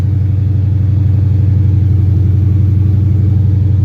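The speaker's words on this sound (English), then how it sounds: "If you want, wait, I'm gonna open the nitrous." A drift car's engine runs loud and close with nitrous opened, a steady low rumble that holds without letup, no talking over it.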